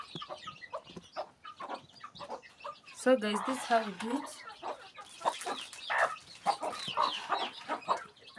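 A hen clucks inside a dark village coop with her small chicks, giving soft intermittent calls and a busier burst of clucking midway, close by, while someone speaks briefly at the start.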